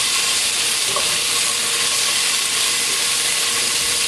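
Smoked sausage searing in butter in a pan while being stirred, a steady loud sizzle and hiss running the whole time with faint scraping, no voices.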